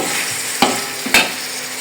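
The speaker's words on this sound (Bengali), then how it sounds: "এই যে কই মাছটা ভাজি করা হচ্ছে মালঞ্চ দিয়ে" Koi fish fry in a pan with malancha greens, a steady loud sizzle broken by two sharp scraping stirs.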